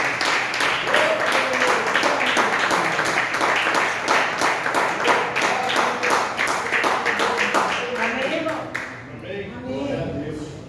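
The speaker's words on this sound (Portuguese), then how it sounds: "Vamos receber a serva do Senhor com uma forte salva de palmas para Jesus" A church congregation gives a strong round of applause during a worship service, dense rhythmic clapping filling the room, with voices over it before it thins out near the end.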